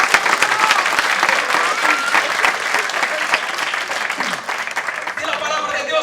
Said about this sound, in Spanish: Dá um forte aplauso ao Senhor esta noite.